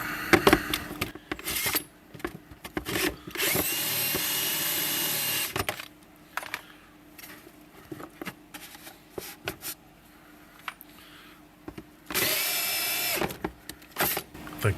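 A power drill with a hole saw and no pilot bit cuts through a plastic box while working on a 2003 Mini Cooper, whining loudly in long bursts separated by brief pauses and clatter.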